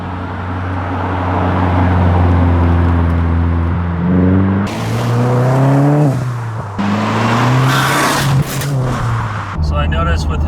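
Subaru WRX fitted with a Perrin oil cooler kit and AN lines being driven, loud close engine drone rising and falling through gear changes with sudden cabin and road-noise shifts.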